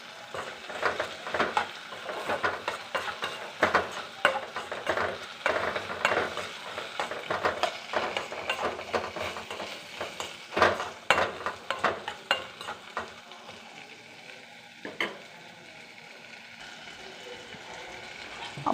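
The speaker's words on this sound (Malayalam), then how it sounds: "വെന്തിട്ട് ഈ തക്കാളി അലുത്തി ചേരണം" Tomatoes mashed and stirred in a frying pan over sizzling heat, a steady scraping and clatter of a spoon against the pan, close up, easing toward a softer bubbling sizzle near the end.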